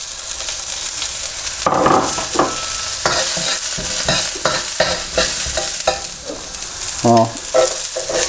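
Onion hitting a very hot oiled wok and sizzling loudly, with a steady hiss of frying broken by clattering stirs and scrapes of a utensil, close up, no voices.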